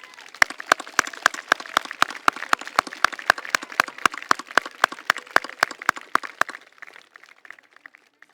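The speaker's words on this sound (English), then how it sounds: "express your deep appreciation and gratitude by giving your parents, family members, and friends a heartfelt round of applause" Sparse hand clapping at a junior high graduation ceremony, a single sharp, regular run of distinct claps at a steady brisk rhythm, close and dry, stopping abruptly after about six seconds with faint noise afterward.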